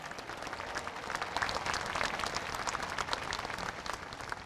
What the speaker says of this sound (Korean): 여러분, 다시 한번 국민 대표들을 박수로 맞이해 주시기 바랍니다.